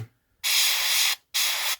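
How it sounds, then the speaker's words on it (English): Paint being airbrushed onto the eyelid of a miniature: two short bursts of steady hissing spray, the first about three-quarters of a second and the second about half a second, close and isolated. "On the eyes we go a little closer and just spray on the down eyelid."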